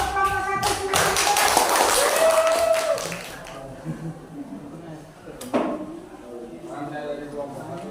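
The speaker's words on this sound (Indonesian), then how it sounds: "tepuk tangan untuk kelompok 1" A short burst of classroom applause for a student group rises at once and fades after a few seconds, followed by a teacher talking over quieter room noise.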